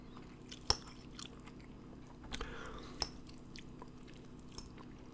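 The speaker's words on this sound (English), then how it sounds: "If you've been waiting for the chewing sounds." Close, quiet chewing and biting of a smothered hamburger with gravy and rice, soft irregular crunches and wet bites spaced apart over a low background, with no talking.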